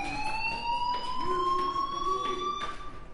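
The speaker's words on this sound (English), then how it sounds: "Hey, do you hear that fire alarm?" Fire alarm ringing in the video game Life is Strange: a steady, loud electronic tone that holds without a break and climbs slightly in pitch, with faint background noise underneath.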